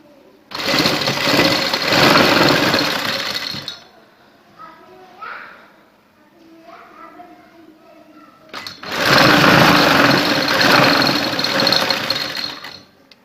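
A sewing machine stitches lace onto fabric in two loud, close bursts, with a quieter pause between them filled by faint handling clicks.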